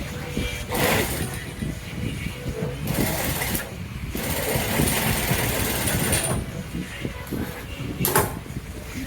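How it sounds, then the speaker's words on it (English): A sewing machine stitches a seam on a jumpsuit with a half-inch allowance, running in bursts of close, buzzing mechanical whir with short pauses between runs. "So I'll sew on the same allowance, which is half an inch."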